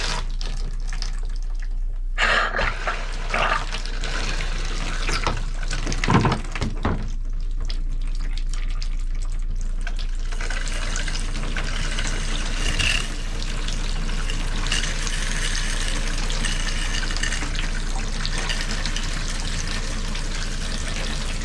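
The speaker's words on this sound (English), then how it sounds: "We'll do hot and cold on the shower, and we'll engage the hand shower as well to get it through there." Water runs steadily through the shower and hand shower of an E-Pro E20BHS camper, a continuous hissing spray and splashing with a few louder gurgles and knocks, heard alone throughout.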